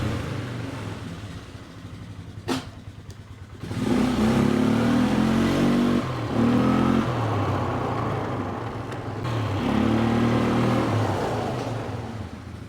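A car engine, freshly rebuilt with tight intake valves, idles then revs hard in repeated throttle blips, loud and close, with sustained high-rev stretches and no talking.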